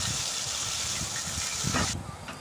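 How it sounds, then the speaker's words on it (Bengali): Capsicum, carrot and beans fry with salt in a pan, a steady loud sizzling hiss that drops away sharply near the end. "সেগুলো লবণ দিয়ে ভালো করে ভেজে নিতে হবে।"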